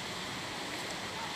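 A small jungle waterfall at the base of a taller falls pours in a continuous broadband rush, steady and fairly faint, with no talking over it.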